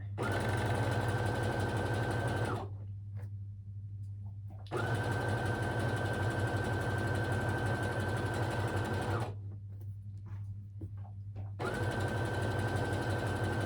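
A home sewing machine stitches the outside leg seam of Birch Trousers, running in steady close-up bursts broken by two short pauses, with no voices.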